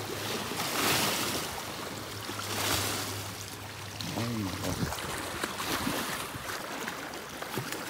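Strong waves slap and wash around a small fishing boat on a lake, steady broadband water noise with wind, a brief low motor-like hum fading early, and a voice faintly speaking in the middle.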